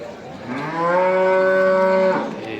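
A single cow gives one long, close moo lasting a couple of seconds, over a faint background hum, at a livestock market in Dhanaula.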